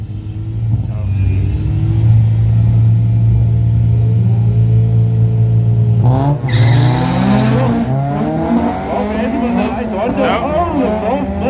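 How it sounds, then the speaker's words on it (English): Loud race car engines rev and roar at Killarney race circuit, with rising and falling pitch as they accelerate, joined partway through by another engine surging up through the gears. "Both cars sounding very nice."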